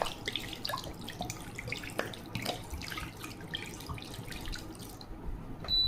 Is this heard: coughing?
no